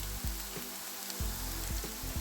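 Onion and grated carrot frying in oil in a pan over medium heat, a steady close sizzle with a few louder crackles and stirring bursts, no voices.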